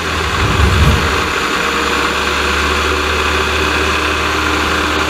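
A supercharged Suzuki Swift engine runs on a dynamometer, a loud steady engine drone with a brief rise in revs near the start before settling into a constant hum.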